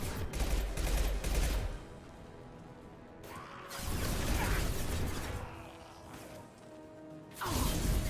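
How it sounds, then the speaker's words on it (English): Enemies fire at the player in a video game: loud bursts of rapid gunfire and mechanical clatter come in three separate volleys, with quieter gaps between them. "Hold on, I'm getting shot at again."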